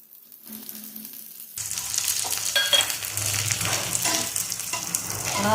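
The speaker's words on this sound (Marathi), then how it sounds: "आपल्याला थोडंसं तेल घालून घ्यायचं आहे ह्याच्यामध्ये थोडा थोडा कांदा घालून घ्यायचा" Onion frying in oil in a cast iron pan, a faint hiss that bursts into a loud, dense sizzle as the onion goes in, with occasional stirring clicks.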